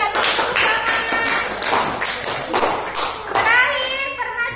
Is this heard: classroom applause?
yes